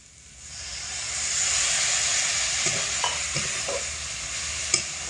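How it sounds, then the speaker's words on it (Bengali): A splash of water meets vegetables cooking in a hot pan, and the steady sizzle swells into a loud steaming hiss, with scattered stirring scrapes and a sharp knock near the end. "তো এবার আমি এর মধ্যে খুব অল্প করে একটু জল দিয়ে দেব"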